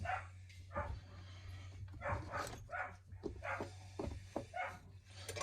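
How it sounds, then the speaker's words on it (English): Several muffled dog barks at irregular intervals, sounding distant from upstairs as the dog chases cats, over a steady low hum. "I got a dog upstairs chasing cats."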